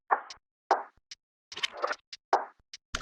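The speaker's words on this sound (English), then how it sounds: "Then finally, I have this other Foley sound. Kind of like a percussion snare" Foley percussion snare-like hits in an FL Studio loop, short dry plopping knocks interspersed with crisp clicky ticks in a bouncy rhythm, close and isolated without talk.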